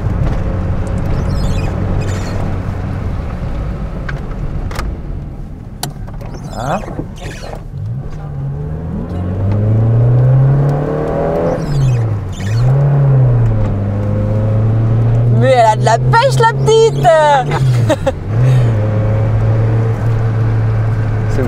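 A Peugeot 205 drives during brake tests, its engine droning steadily with rising and falling pitch as it speeds up and slows, heard from inside the car while people talk briefly over it.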